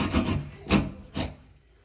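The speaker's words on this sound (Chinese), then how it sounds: "现在我们找来了一把锯子给它锯断。" A hand saw cuts through lamb bone in a home kitchen, giving three rasping strokes close by, the first longest and the later two shorter, with no talking.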